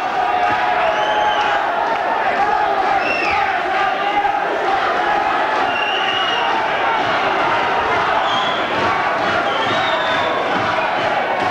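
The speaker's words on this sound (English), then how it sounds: "the crowd are really into this one" A dense, loud arena crowd roars and cheers continuously throughout a boxing bout, with scattered shouts and whistles rising above the steady wall of noise.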